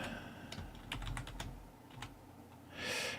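Touch typing on a computer keyboard gives quick, close clicking keystrokes in an uneven rhythm, with a short rustle at the end.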